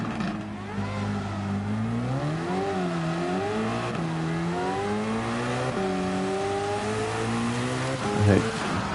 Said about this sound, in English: Tons of wheel spin there.